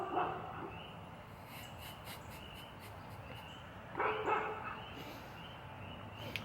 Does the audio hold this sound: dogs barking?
yes